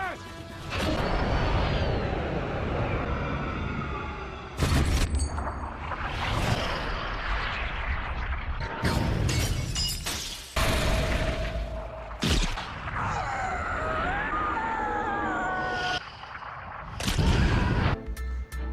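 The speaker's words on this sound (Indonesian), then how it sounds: "Sialnya, tembakan tersebut malah menyerempet bokong Marcus" Gunfire and crashes from the 2003 action film Bad Boys 2, with sharp, loud repeated bangs and impacts breaking up a busy mix of talking voices and movie sound.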